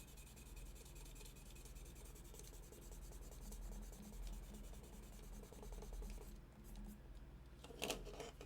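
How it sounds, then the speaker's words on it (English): Sandpaper rubbed steadily over a small model kit part, a soft continuous scratchy rasp close up, quiet and with no voices. "we're going to hit this guy with some sandpaper here, just to make it easier to draw on"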